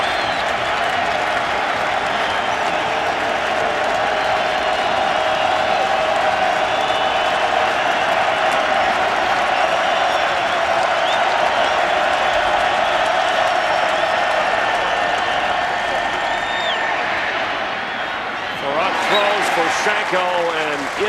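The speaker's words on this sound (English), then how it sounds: "And the crowd will get into it." A packed NFL stadium crowd roars steadily throughout a 2008 game, a dense sustained din with whistles and shouts, while a commentator talks over it and a burst of louder reaction rises near the end.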